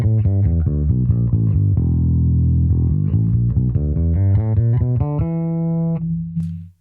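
A bass guitar played through a Neural DSP Quad Cortex with a clean tone plucks a run of distinct notes. A low held note rings at the end before cutting off, with no talking.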